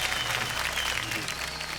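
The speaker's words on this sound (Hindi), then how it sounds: "बहुत जोरदार तालियां बज जाएं" A studio audience on the set of Kaun Banega Crorepati Season 13 claps in steady, dense applause that stays loud and even throughout.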